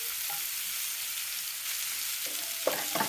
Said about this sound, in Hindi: इसको मैं सिर्फ 1 मिनट के लिए भूनता हूँ